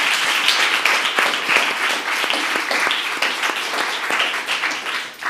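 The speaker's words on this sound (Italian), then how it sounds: "Perciò un applauso per loro." Steady applause from a crowd fills the whole stretch, dense clapping at an even level without pause.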